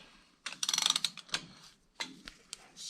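A socket and torque wrench tightening a wheel hub nut to 50 foot-pounds on an LMTV, a quick run of close ratcheting clicks followed by a few separate clicks and a sharp snap, with no speech.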